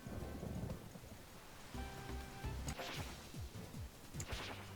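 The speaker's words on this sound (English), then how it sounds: "her divination thing, whatever, has brought upon a storm" Thunderstorm in the video game Eiyuu Senki: rain hisses steadily while a thunder crash and rumble rolls in midway, with no talking over it.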